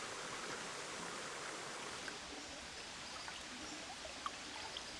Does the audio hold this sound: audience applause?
no